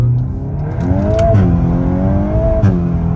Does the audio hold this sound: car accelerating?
yes